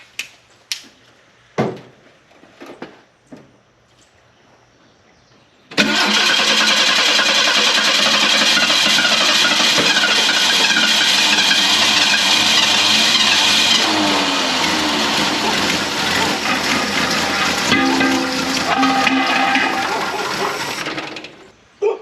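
A 1969 Ford Mustang with fuel poured in cranks after a few clicks and clanks, then sputters into a loud, rough, sustained engine roar for about fifteen seconds before cutting off.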